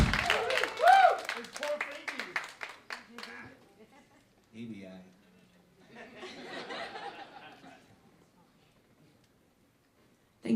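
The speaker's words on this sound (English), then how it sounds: "guys put your hands together for our bass player?" Audience clapping and cheering for a bass player at a honky-tonk band gig, the loud burst of applause and whoops fading out over several seconds, followed by quieter crowd chatter and a voice speaking.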